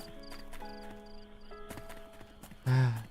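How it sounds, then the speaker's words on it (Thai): Insect chirping ambience in a night scene of the Crayon Shin-chan video game, with faint repeated high chirps over soft tonal background sounds, ending in a brief louder thud. "มีเสียงแมลง"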